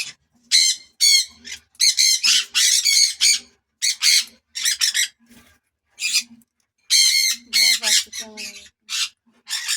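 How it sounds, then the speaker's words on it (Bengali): A bird squawks loudly in short, harsh bursts close by, with brief pauses between calls and a faint voice now and then. "পাখি আমার মাথার উপরে বসে আছে"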